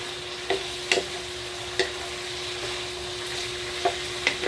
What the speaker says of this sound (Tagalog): Konting mga 2 minutes ko lang siya igisa yung tanglad.